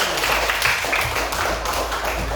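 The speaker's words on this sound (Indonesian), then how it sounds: "tepuk tangan untuk kelompok 1" A classroom audience claps for a student group after its presentation, a dense burst of hand claps that is steady, close and fairly loud for the whole stretch.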